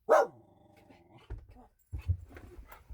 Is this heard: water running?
no